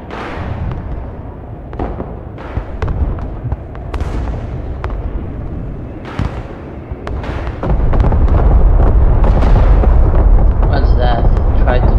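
Heavy bomb blasts from an air strike in the Broken Arrow war game, a series of deep booming explosions and crackling bursts that build into a sustained loud roar, with a voice talking over the barrage.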